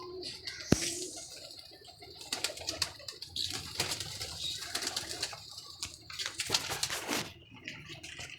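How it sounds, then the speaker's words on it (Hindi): Pigeons on a rooftop coo in soft repeated low calls, with wing flutters and scattered bird clicks nearby, fairly quiet, and some faint voices in the background. "कबूतर तो माशाल्लाह माशाल्लाह 2-3 दिन के अंदर 11 आए हैं"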